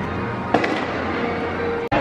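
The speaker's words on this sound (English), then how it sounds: "We have a fireworks show while we eat our food." Fireworks go off at Disney's Hollywood Studios as a continuous rumbling din, with one sharper burst standing out and a brief dropout near the end.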